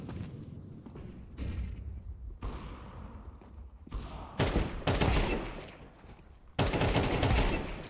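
Bursts of rapid gunfire from the game Counter-Strike 2, loud and close, with several clustered volleys and thumping shots, the heaviest firing in the second half.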